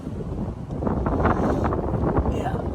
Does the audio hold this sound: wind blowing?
yes